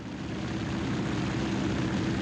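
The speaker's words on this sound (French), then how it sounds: "Le Broussard file à 80 nœuds, environ 150 km/h." A Broussard propeller plane in flight drones with a loud, continuous, close engine and propeller roar that holds steady throughout.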